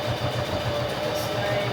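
A sewing machine stitches and back-stitches fabric for a baby car seat cover, giving a steady, fairly quiet mechanical hum with a faint regular pulsing throughout.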